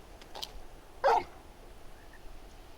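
A large dog in the video game Final Fantasy XVI gives a single short bark over quiet game ambience, with a few faint yips before it.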